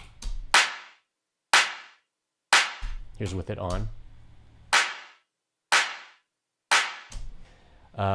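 Clap samples in a synth pop rock track, widened with a sample delay, strike in a steady rhythm about a second apart with short bright tails, while a voice speaks briefly over them midway.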